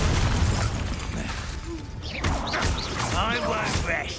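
A Confringo fire spell explosion in the Hogwarts Legacy video game, a heavy booming burst followed by crashing impacts and rumble, with a voice talking over the later part.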